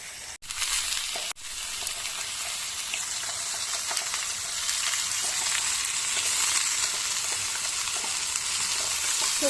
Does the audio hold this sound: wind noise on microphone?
no